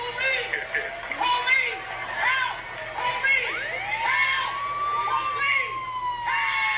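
Emergency vehicle sirens wail in the background, their rising and falling tones repeating steadily under a voice and a noisy crowd.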